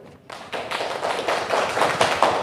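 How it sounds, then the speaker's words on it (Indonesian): Classroom applause for student groups during a teaching-practice lesson, starting after a brief quiet moment and building into close, brisk clapping from a small group of hands that grows louder toward the end. "Tepuk tangan dulu"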